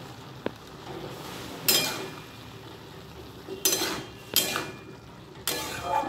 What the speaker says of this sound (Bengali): আদা বাটাটা দিয়ে ভালোভাবে সবজিটাকে আরও একবার নাড়বো